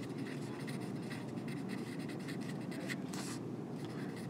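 Something is written on a board during a lecture: continuous dry scratching strokes at low level, with a few sharper bursts of scraping near the end and faint room noise underneath.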